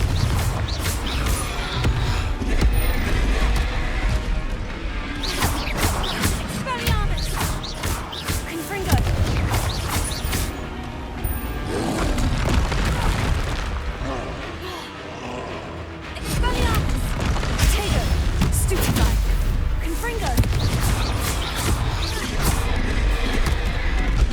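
Glacius, Incendio and Confringo spells cast in Hogwarts Legacy, a run of loud crashing impacts, bursts and whooshes with a short lull midway, dense and close, with some voice mixed in.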